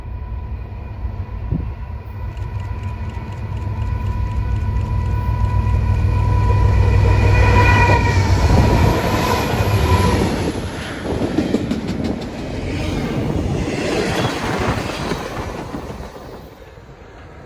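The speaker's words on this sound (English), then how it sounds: "Next is a CN intermodal with a GEVO and an M2 up front." A CN intermodal freight train led by a GEVO and an M2 locomotive rolls past close by, with a loud, deep engine rumble swelling and fading under steady rail clatter and a few sharper clanks.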